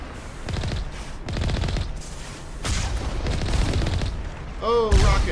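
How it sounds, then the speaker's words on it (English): Rockets and gunfire from the video game Mass Effect Legendary Edition, with repeated bursts of shots and booming blasts going on throughout. Voices sound faintly under the combat noise. "Oh, rockets! Oh, a lot of rockets!"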